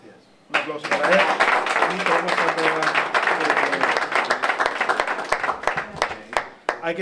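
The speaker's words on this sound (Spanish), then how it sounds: "Un aplauso para él." At an annual lunch meeting in a restaurant, diners burst into applause after a moment of quiet, many hands clapping densely and steadily before thinning into scattered claps near the end, with faint voices underneath.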